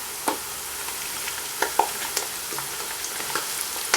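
Cumin and nigella seeds fry in hot oil with ginger, garlic and onion, giving a steady soft sizzle broken by sharp pops and the scrape of stirring, heard close with no talking.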